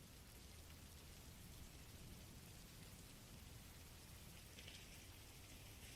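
A recording of steady rain hisses on in the background, an even wash of raindrops with no pauses or other sounds.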